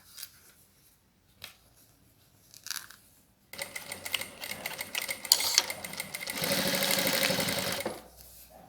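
A sewing machine stitches along the folded edge of binding on a plastic pouch. Quiet snips and handling come first, then a close burst of fast mechanical whirring and clatter that stops abruptly.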